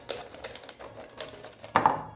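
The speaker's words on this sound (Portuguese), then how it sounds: "Você vai usar a tesoura e cortar a garrafinha." Scissors snip through a small plastic bottle while a hand puppet is being made, giving a quick run of close, crisp clicks and crunches that ends in a louder snap.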